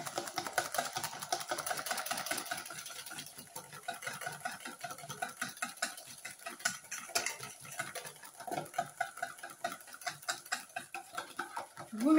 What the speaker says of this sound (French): Et là, vous fouettez.